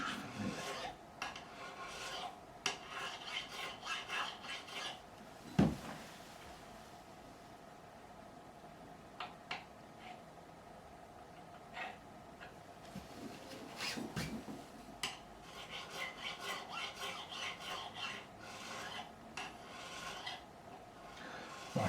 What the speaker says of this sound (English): a lot more file strokes than you'd need on regular fret wire